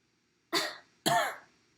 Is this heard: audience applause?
no